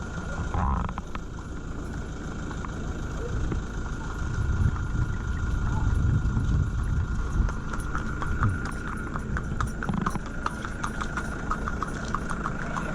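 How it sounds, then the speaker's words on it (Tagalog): Horse hooves clip-clop steadily near Kaliraya Lake in Laguna, against a constant engine-like drone and background noise, with faint voices now and then. "Kabayo."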